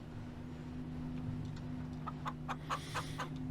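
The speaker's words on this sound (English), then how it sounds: "So let me get these chickens unloaded real quick." Chickens being unloaded in Farming Simulator 19 give several short clucks over the last second and a half, faint against a steady low engine hum.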